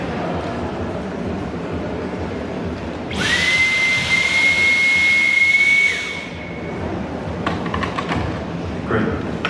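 A Dyson cyclonic vacuum cleaner is switched to its highest mode, letting out a loud, steady high-pitched whine for about three seconds before dropping back to a lower background hum.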